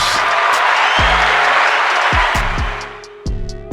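A small audience applauds at the open of a talk show, a dense wash of clapping that fades toward the end as a deep tonal sound cuts in beneath it.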